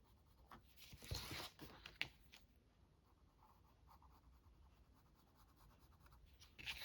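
A pencil scratches faintly across paper in a quiet room, with a burst of quick, irregular strokes early on, then softer, steadier writing.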